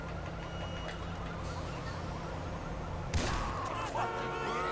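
An ambulance siren in GTA 5 wails in the distance, its rising and falling tone sitting over a busy game soundscape, with a sharp knock partway through.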